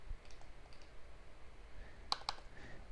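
A computer mouse gives two quick, crisp clicks in a quiet room, close and light against faint background hiss.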